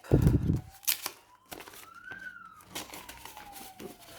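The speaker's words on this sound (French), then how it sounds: "L'ambulance qui passe." An ambulance siren passes in the distance, a faint rising and falling wail, under nearby paper rustling and handling noises.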